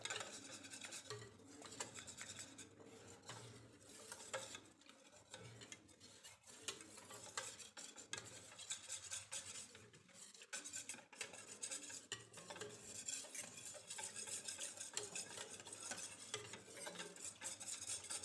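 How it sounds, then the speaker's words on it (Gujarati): Green onion kadhi batter being stirred with added water in a pot, a steady run of quick scraping, sloshing strokes and light utensil clinks at moderate distance, with no talking. "હવે બધી વસ્તુને પાણી સાથે મિક્સ કરી લઈએ"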